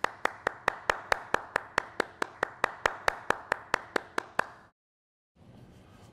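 Applause for graduates at a college commencement, heard as a single person's steady rhythmic hand claps, about twenty evenly spaced, close and crisp, then a sudden stop, a brief silence and faint room noise.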